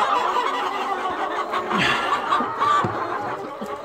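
A flock of chickens clucking and murmuring continuously on an egg farm, close and busy, with overlapping calls and small squawks.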